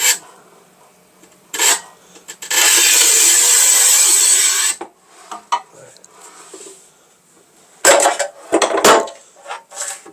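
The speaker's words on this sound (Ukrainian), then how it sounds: "слава Богу, ріжеться плитка" A 1200 mm porcelain tile is scored with a manual tile cutter in one long, loud, harsh rasping stroke, followed by scattered clicks and knocks from the cutter and tile, and a second burst of scraping near the end.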